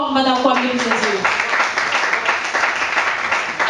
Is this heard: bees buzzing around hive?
no